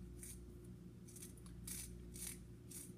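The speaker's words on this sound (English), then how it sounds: "take the case trimmer and I" A case trimmer cutting a Magtech brass 12 gauge shotgun hull makes about five short, faint scraping strokes at an uneven pace, over a low steady hum.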